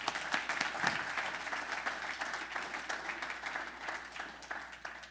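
An audience at a talk by a corporate CEO breaks into sustained applause, a steady wash of clapping that holds for several seconds and slowly fades.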